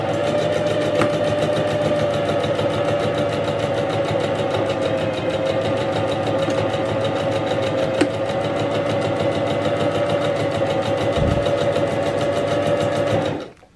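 A Singer 5523 sewing machine stitches a buttonhole, running in a fast, steady mechanical whir with rapid needle ticking, loud and close, then stopping abruptly at the end.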